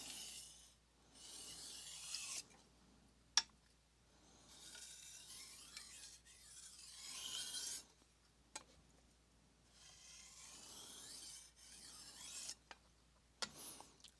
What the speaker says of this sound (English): Just light, as always, with the deburring strokes